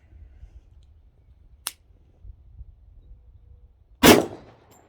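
A .45 pistol fired while prone to jamming: a faint metallic click, then one loud sharp report with a short decay, outdoors with low background rumble and no speech.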